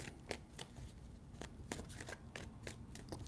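Tarot cards are shuffled in a quick, quiet burst of soft riffling and tapping, several crisp clicks rising above a faint papery rustle close by.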